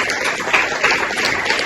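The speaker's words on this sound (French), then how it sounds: "Tonnerre d'applaudissements pour Baptiste." An audience claps for a performer about to do his first comedy sketch, producing a close, loud burst of many hands that stays busy and uneven across the moment, with no talking over it.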